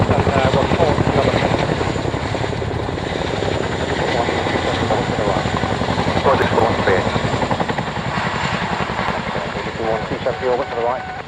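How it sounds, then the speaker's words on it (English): A Chinook twin-rotor helicopter lifting off at very low level gives a loud, steady rhythmic rotor thump with a continuous engine whine, close and sustained throughout, with speech faintly mixed in. "Chinook helicopter just about to lift at above very low level to the north"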